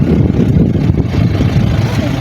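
Vehicle engine idling as it comes to a stop in the Jaisalmer desert after a heavy climb: a close, loud, steady low rumble throughout the short stretch.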